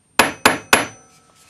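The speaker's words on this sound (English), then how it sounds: "take your planishing hammer with the rounded end and hammer this to half its thickness" Three sharp, ringing strikes of a planishing hammer's rounded end on metal land in an even rhythm, close up, each decaying quickly before the next.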